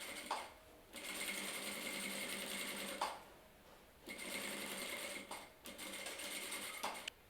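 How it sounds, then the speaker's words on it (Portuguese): A sewing machine stitches boning onto a party dress in three long, steady bursts of rapid mechanical whirring, each stopping abruptly before the next begins, heard up close with no talking. "vamos passar essa costura prendendo a minha barbatana aqui ao vestido."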